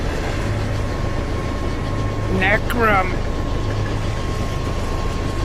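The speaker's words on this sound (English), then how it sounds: "Even though the train is bouncing around," A train in the video game Oddworld Soulstorm bouncing along tracks, a constant loud low rumbling drone throughout, with a character's voice speaking briefly over it.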